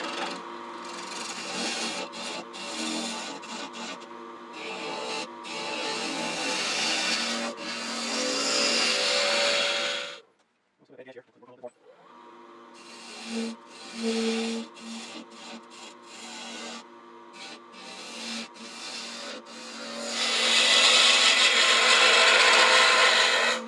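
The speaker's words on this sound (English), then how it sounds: "let me take my 1/2 inch spindle gouge and see if I can't clean this surface up" A 1/2 inch spindle gouge cuts across a wood surface on a lathe, giving a continuous dry rasping scrape in bursts, with a short pause partway through before the cutting resumes and grows louder.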